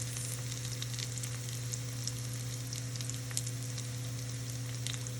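Pork sausage seasoned with Italian herbs sizzles steadily in a pan, a continuous crackle with scattered pops over a low constant hum, moderately quiet and with no voices.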